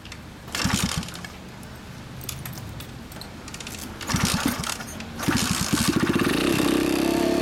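A Honda Monkey Z50 with a Yoshimura four-style exhaust cranks on its electric starter, stumbling in short tries before firing into a loud, rapid, throaty idle up close.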